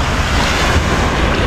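Strong wind and heavy rain batter a small fishing boat at sea at night, making a loud, continuous, rushing roar with wind buffeting the microphone and no voices.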